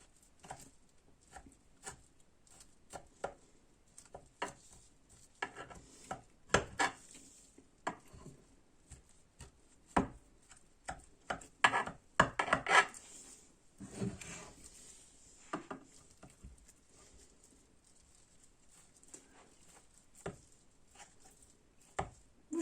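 Knife chopping wild chervil greens (yalancı maydanoz) into pieces for börek: irregular, fairly quiet cutting taps on a board, clustered into short bursts with brief pauses, close by and with no talk.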